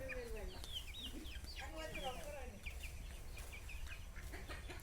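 Chickens clucking and squawking at a poultry farm enclosure, several birds calling over one another in a steady, busy chorus with a constant low rumble of background noise.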